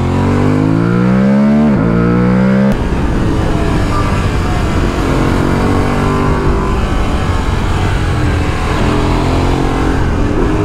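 A 2023 Aprilia Tuareg 660 motorcycle engine revs up loud and close, its rising tone climbing through the gears before settling into a sustained roar of engine and wind noise.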